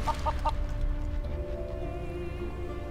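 Chicken clucking from the fantasy role-playing video game Divinity: Original Sin 2: a quick run of three short clucks at the start, then steady game ambience with a low hum and tonal music.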